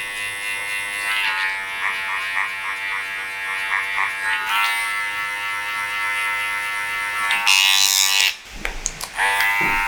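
Electric hair clippers with a lever and guard buzz steadily up close while cutting a short haircut, the drone shifting in pitch as the blade works along the hair, then cutting out briefly near the end.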